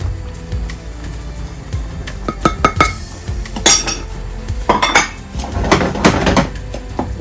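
Rava upma being stirred in a metal pan, with a spoon scraping and clinking against the pan in irregular bursts, close and moderately loud, with no talking.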